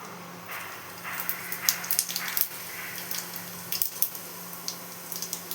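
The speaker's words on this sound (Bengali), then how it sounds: "এখন এই তেলের মধ্যে একটা তেজপাতা আর গোটা জিরে ফোড়ন দিয়ে দিচ্ছি।" A bay leaf and whole cumin seeds crackle in hot oil, a low steady sizzle with scattered sharper pops and spits over about five seconds, heard alone without talk.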